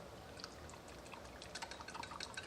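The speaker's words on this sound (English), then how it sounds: "put a little more water in here." Water poured into a bowl while cooking an egg roll in a bowl dish with teriyaki and soy sauce, a faint trickling and dripping spread over about two seconds, quiet and close.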